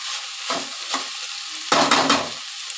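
Chopped banana stem sautéed in a pan, with a soft frying hiss broken by a few scraping stirs and a louder burst of sizzling and clatter near the end.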